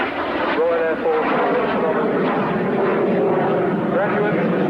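A Jet Provost 3A jet trainer flies at the 1986 RAF Halton airshow, a steady loud engine roar filling the whole stretch while a voice talks over it.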